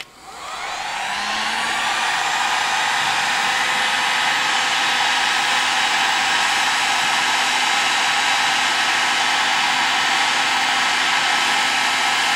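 A heat gun blows hot air onto a softened plastic throwing weight, making a loud, steady hairdryer-like roar that spins up in the first second and then holds constant and unbroken with no talk.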